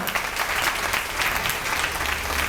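Workshop participants in a Montessori education session break into loud, dense applause that stays sustained and even from start to finish.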